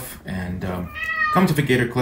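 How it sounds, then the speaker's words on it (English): A house cat meows clearly in a short burst, heard close by between and under a person speaking indoors during a tech unboxing. "That's my cat."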